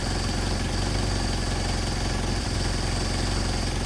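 A Mercedes-Benz 190SL engine with Solex carburetors idles steadily nearby, a loud constant rumbling drone with no change in speed.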